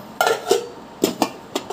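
Heavy metal pot lids handled in a home kitchen, giving about five short clanks and knocks in loose, irregular succession, near and moderately loud with no voices.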